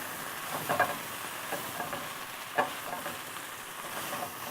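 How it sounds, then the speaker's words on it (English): Kale sautéing in a pan gives a steady, soft frying hiss with a few brief stirring scrapes, moderately close and fairly quiet, with no talk. "Just gonna make sure my kale is doing okay here. So nicely sauteing."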